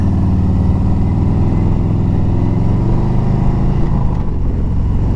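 Harley-Davidson Road King Special motorcycle engine idling steadily up close, a continuous low rumble with a slight change in tone near the end.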